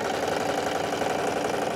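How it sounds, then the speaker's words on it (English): Sewing machine running continuously at close range as it stitches up the sides of a thrifted vintage garment, a steady, dense mechanical whir with fast needle chatter and no pauses. "Just have to sew up the sides to make it a giant tube."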